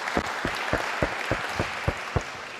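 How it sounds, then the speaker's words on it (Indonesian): Slow, evenly spaced claps, about nine in a steady rhythm, from a gathering at an interfaith discussion event, each clap distinct over a soft background hiss. "harus beri tepuk tangan untuk Katolik Indonesia"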